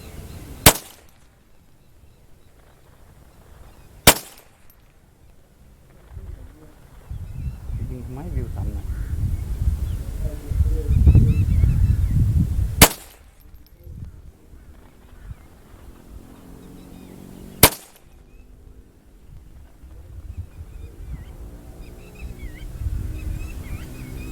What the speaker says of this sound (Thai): เดี๋ยวผมลองยิงกระป๋องโค้กกันสิ